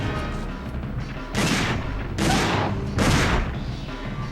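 Gunfire in the Dino Crisis 2 video game, three loud broadband bursts spaced about a second apart over a steady low background rumble.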